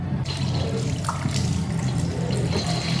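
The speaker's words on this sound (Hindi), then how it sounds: "मुँह धो लेती हूँ" Tap water runs steadily into a sink while someone washes her face, a continuous close splashing hiss with no talking.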